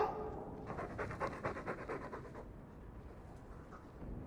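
A dog panting in Dragon Age 2, with quick rhythmic breaths close by and fairly quiet, fading toward the end.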